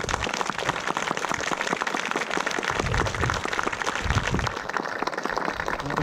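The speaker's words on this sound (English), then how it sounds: "a round of applause please for our reenactors" Outdoor audience at a 2019 Dunbar reenactment event applauding the reenactors: dense, sustained clapping that holds steady throughout, like heavy rain.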